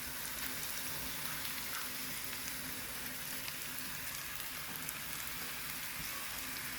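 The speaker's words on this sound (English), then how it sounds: "I'm just going to saute up everything" Onion and carrots sautéing in a pan for Jamaican-style escovitch fish make a steady, dense sizzle that holds evenly from start to finish with no talking.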